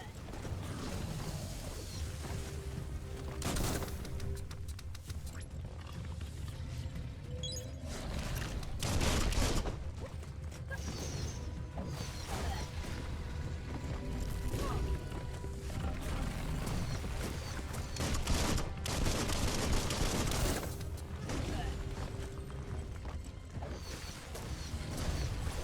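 Gunfire in Biomutant: bursts of shots and mechanical clatter come in clusters over a busy, dense game soundscape, loud and close at several moments.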